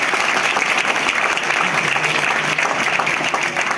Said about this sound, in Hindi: आप मोबाइल यूज नहीं करते, थोड़ा ताली, जोरदार ताली बजा दीजिए।